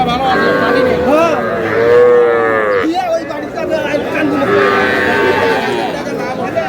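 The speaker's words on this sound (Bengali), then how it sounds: "সবচেয়ে ছোট ছোট বাচ্চা, ষাঁড় বাচ্চা আমরা দেখছিলাম।" Young bull calves moo repeatedly at a busy cattle market, the drawn-out calls overlapping from several animals nearby amid steady crowd chatter.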